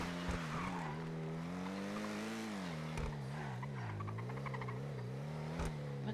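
A car in a video game drives with a sustained, wavering engine drone and tire squeal, shifting pitch as it steers and skids, with brief clicks standing out at a few points; no one speaks.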